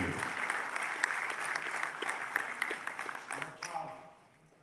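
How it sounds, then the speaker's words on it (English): Audience applause welcoming the Prime Minister of India at the Semicon India 2022 inauguration in Bangalore, a broad sustained clatter of many hands in a large hall that holds steady, then tapers and fades away near the end. "Let's give a round of applause and welcome the Honorable Prime Minister of India, Shri Narendra Modiji."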